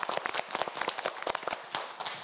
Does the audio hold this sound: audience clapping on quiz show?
yes